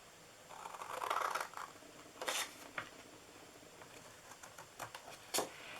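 Scissors snip across paper while making a festive holiday DIY candy box, a few soft close cuts with a brief rustling burst early on and scattered short snips after.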